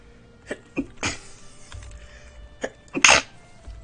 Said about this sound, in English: apologies if I sneeze a lot